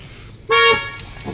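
A single car horn blast sounds loud and close for about a quarter second, with a fainter short toot trailing after it over a low background hum.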